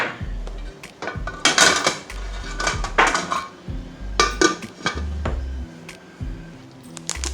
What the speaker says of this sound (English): I'm going to go ahead and mix this up once more and let that simmer